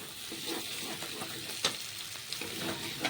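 Fried spiny gourd pieces sizzling and being stirred in hot oil in a pan, a steady close crackle broken by a few sharp scraping clinks of the spoon.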